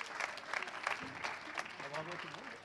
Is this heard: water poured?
no